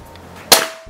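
A PCP bullpup air rifle fires a single sharp, loud shot that cracks out abruptly and decays quickly against a quiet background.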